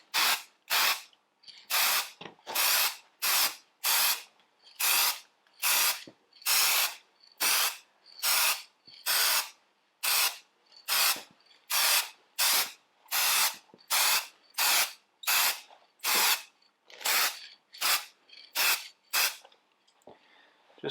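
Short bursts of spray paint from a spray gun lightly dusting a Ferguson TED20 tractor body over red oxide primer, about two dozen evenly spaced hissing blasts in a steady rhythm, close and alone.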